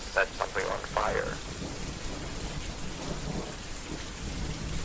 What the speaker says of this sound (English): That sound right there was lightning.